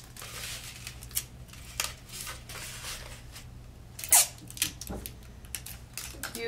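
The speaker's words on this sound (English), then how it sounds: "I'm going to also use a little bit of tape just to save some time for them" Tape pulled and pressed onto a paper hat shape gives a few short, scratchy rips and crinkles, close and fairly loud, with one sharper burst near the middle.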